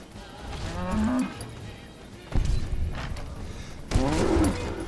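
Cows in the video game Fallout: Tale of Two Wastelands give out several low, drawn moos over rough background noise, with thuds and game effects in between.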